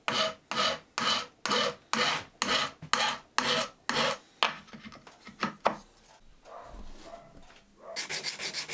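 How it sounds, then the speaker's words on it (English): A hand file rasps over the sharp cut ends of bolts in about a dozen steady, even back-and-forth strokes, close and clear, followed by softer scraping and a faster burst of rubbing at the end. "then I eased over the sharp edges with a file"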